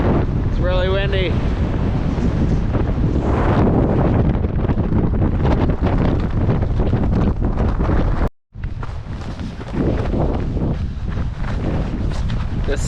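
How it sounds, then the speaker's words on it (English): Strong gusting wind buffets the microphone in an Icelandic valley of waterfalls, a loud continuous roar that drops out for a moment before surging back. "It's really windy."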